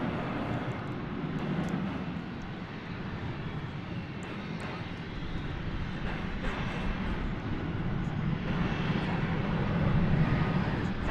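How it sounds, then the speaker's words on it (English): American Airlines Boeing 737-800 departing DFW Airport at night, a broad jet engine roar rumbling steadily and building slightly louder toward the end, heard from a distance with no voices. "that plane was going to Austin, American Flight 1828, 737-800"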